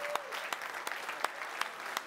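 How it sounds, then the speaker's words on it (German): An audience at an insect-protection award ceremony at Berlin's Grüne Woche 2020 applauds the first-prize winner, with brief, faint, somewhat distant clapping and scattered distinct claps. "Da nochmal einen extra großen Applaus."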